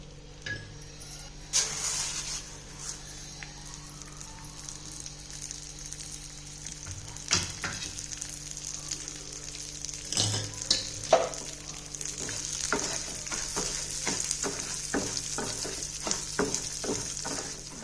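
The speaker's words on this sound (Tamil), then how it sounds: "அடுத்து கொஞ்சம் நெய் சேர்த்து பாசி பருப்பை வறுத்துக்கலாம்" Moong dal is roasted in ghee for a payasam. A low, quiet sizzle runs under frequent scraping and clinking stirs that grow busier and louder toward the end, close by, with no voices.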